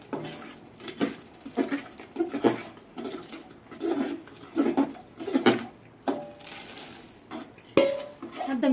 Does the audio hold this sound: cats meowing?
no